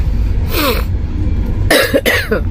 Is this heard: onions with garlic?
no